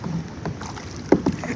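A kayak paddle dips and pulls through the water off Padubidri beach, giving a few close splashes and drips over wind and a low background wash.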